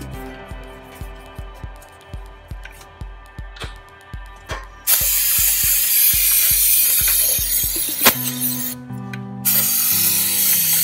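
Cleaning the throttle body of a Chevrolet Tahoe, a brush scrubs in quick rhythmic strokes, then gives way to a loud steady hiss of spray with a sharp knock near the end.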